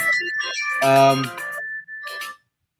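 A phone ringtone sounds for an incoming call, a loud electronic melodic tone that plays in two bursts with a brief gap between them.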